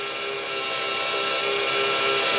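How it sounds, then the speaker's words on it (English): A radio-controlled model helicopter flying stunts in stunt mode gives a loud, steady high-pitched rotor and motor whine that holds without a break, with no talking. "you might notice the helicopter comes towards you"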